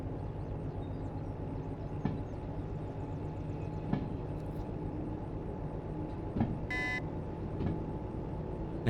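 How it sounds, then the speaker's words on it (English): A train in the Derail Valley game runs with a steady low rumble and rolling noise throughout, a brief high beeping burst sounding near the end as a signal for the next junction. "it's beeping again for the next one"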